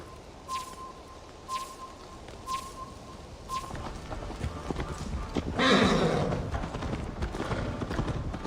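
Horse hooves in the video game Assassin's Creed Valhalla clip-clop in a regular rhythm, then speed into a gallop as the horse whinnies; birds chirp faintly in the background.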